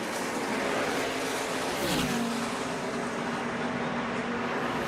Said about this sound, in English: A little bit sideways there for Holmes. Never let out of the throttle